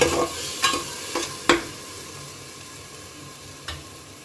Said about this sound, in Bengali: মশলাটা দিয়ে আমি মিশিয়ে নেবো একটু